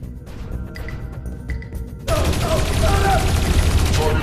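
Gunfire in the video game Dreamfall Chapters breaks out abruptly halfway through, a dense loud burst of shots and crashes over a quieter game soundscape.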